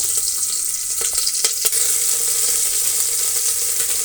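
Green chillies and cut ginger frying in ghee in a pan for kara pongal, a loud, steady sizzle with a few brief scraping clicks of stirring near the middle.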